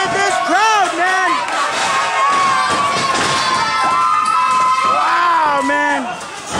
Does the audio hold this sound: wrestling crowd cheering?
yes